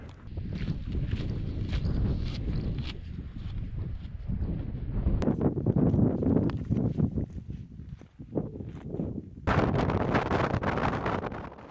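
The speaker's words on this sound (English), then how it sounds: "As you can hear, the wind really picked up as I got onto the Bhòidheach" Strong wind gusts buffet the microphone on an exposed Scottish mountain plateau near Lochnagar, a loud continuous roar that surges and eases, briefly dropping before a fresh blast.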